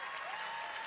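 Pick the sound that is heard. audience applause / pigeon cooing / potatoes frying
audience applause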